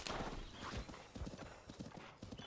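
Horse hooves from the video game Breath of the Wild, quick rhythmic clip-clop of a galloping horse, close and clear, with a brief whinny-like sound early on and no speech.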